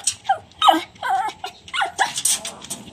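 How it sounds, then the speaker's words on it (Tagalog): A dog whimpers and yips in short, high, breathy bursts at a junkshop, close to the microphone, with no talking. "Ayan mga kasikap yung aso natin."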